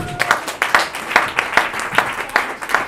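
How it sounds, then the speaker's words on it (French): Guests at a family birthday party in Knokke, Belgium applaud, producing steady, loud clapping with distinct individual claps throughout. "On peut l'applaudir bien fort."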